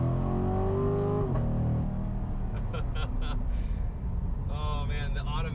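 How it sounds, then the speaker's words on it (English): An automatic-transmission Corvette accelerates hard, its engine note climbing steadily before dropping sharply at a gear shift and then building again, loud and continuous throughout with a rough rumble. "Oh man, the automatics, they sound so good when they shift."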